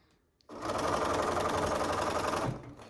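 A sewing machine runs steadily for about two seconds, stitching along the nose piece of a hospital-style fabric face mask, loud and close, starting abruptly and stopping cleanly with no talk.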